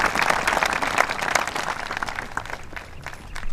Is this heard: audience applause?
yes